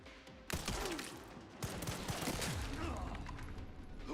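Heavy gunfire in the horror game Resident Evil 9, sharp loud blasts followed by a dense, continuous crackle of shots under game ambience, close and aggressive.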